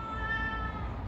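A single drawn-out, fairly loud kitten meow, steady and close, with no one speaking.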